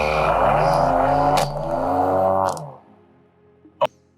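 Paramotor engine hand pull-started on the ground roars to life with a loud, harmonic buzz for about two seconds, then dies away, followed by a sharp click near the end.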